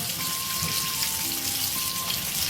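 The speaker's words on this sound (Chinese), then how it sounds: "全程中小火慢慢的炸，把鱼肉炸酥炸脆" Fish pieces deep-frying in oil over medium-low heat, a steady close sizzle with fine crackling, continuous and even throughout.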